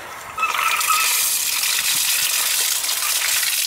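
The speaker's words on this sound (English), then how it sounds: "Let me go turn the water on." Water gushes steadily from an outdoor frost-free sillcock, a loud continuous rush that surges up after a brief start and keeps flowing with no talk.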